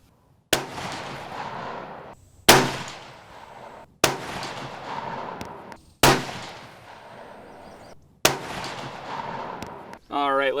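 Five loud rifle shots crack out one by one at the range, spaced about two seconds apart, while a riflescope is sighted in. Each sharp report decays into a ringing tail, and a brief voice comes in at the very end.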